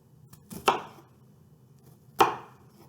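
Two crisp knife chops on a board as small fanning cuts are made into an onion, spaced about a second and a half apart, close and clear against near silence.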